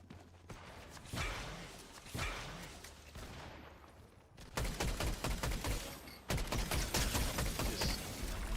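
Gunfire in the video game Fortnite during a competitive match, with rapid bursts of shots and sharp single cracks in irregular clusters, fairly loud and close, with no talking.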